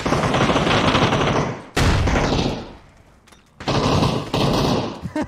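Automatic gunfire in PUBG, loud bursts of rapid shots in two main volleys separated by a near-silent gap, with a brief spatter of further shots at the end.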